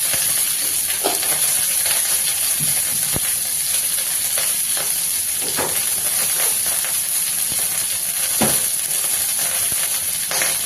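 Bitter gourd with curry leaves, turmeric and a little salt sautéing in a pan, a steady close hiss with scattered soft scrapes and stirring clicks, no talk.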